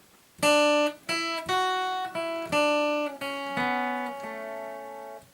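A guitar slowly plays a section of the hornpipe Harvest Home, about eight plucked notes in a lilting, swinging, uneven rhythm, each ringing out clearly up close with no speech.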